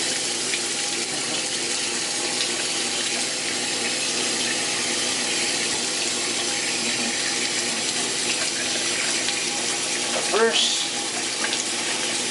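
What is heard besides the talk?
hot water running from tap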